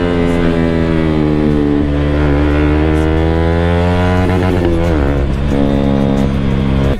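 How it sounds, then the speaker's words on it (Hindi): Motorbike engine pulling hard on a road as the rider speeds up, a loud, steady drone whose pitch climbs and shifts through gear changes, close and continuous with no talk over it. "धर्मवीर दोनों भाई आगे निकल चुके हैं, तो हम भी खींचते अपनी बाइक को।"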